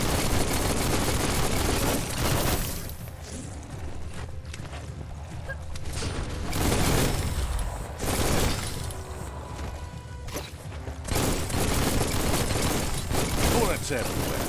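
Dense gunfire from the video game Biomutant, with layered bursts of shots and crashing impacts rolling continuously for the whole stretch, loud and near, with brief dips between heavy volleys.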